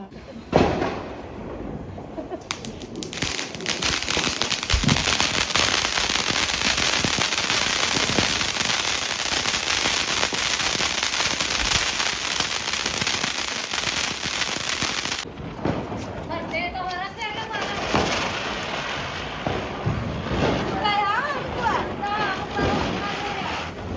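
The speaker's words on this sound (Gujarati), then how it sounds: "હવે સ્કાય શોટ ફોડીએ છીએ" Sky shot fireworks set off at a Diwali celebration outdoors, a long continuous hissing roar followed by crackling and popping bursts, loud and close, with people's voices around.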